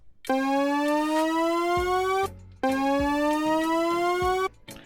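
Two long buzzy synth notes, each gliding smoothly upward in pitch via slide notes in the FL Studio piano roll, separated by a brief pause and a low thump.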